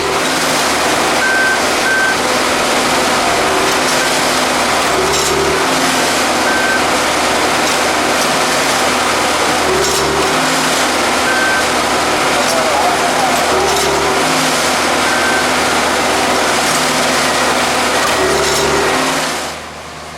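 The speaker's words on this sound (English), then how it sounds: "using its hydraulic claw, pulls out spikes 2 at a time" A hydraulic rail spike puller works along a railroad track while crossties are replaced, its hydraulic claw pulling spikes two at a time; a loud, steady diesel drone runs throughout, with short repeated beeps cutting through at intervals.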